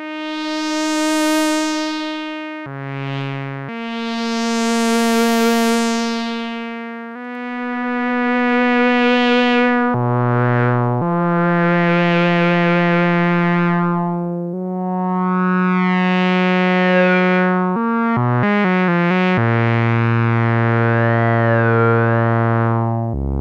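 Sustained notes from a Roland System 100 Model 101 synthesizer pass through a Moog MF-108M Clusterflux effect, each held tone sweeping and warbling as the modulation ramps in. A loud, continuous melodic line plays alone.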